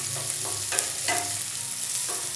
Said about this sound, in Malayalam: സവാള ചേർത്ത് കൊടുത്ത ശേഷം നല്ല രീതിയിൽ തന്നെ എല്ലാം കൂടി ഒന്ന് വഴറ്റി കൊടുക്കാം